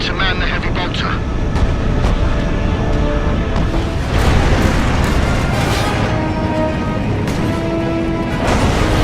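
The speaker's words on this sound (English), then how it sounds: "Look sharp, Orc flyers inbound." Ork flyer aircraft roaring in close over a battlefield in Warhammer 40,000 Space Marine, a loud continuous engine rush with booming blasts and impacts throughout, no spoken words.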